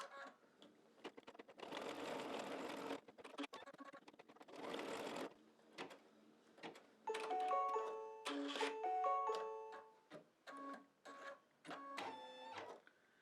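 An embroidery machine stitches a cloud placement line on an in-the-hoop mug rug, running in fast rhythmic bursts with pauses between, a close mechanical whirring and clatter with a few tonal beeps and clicks.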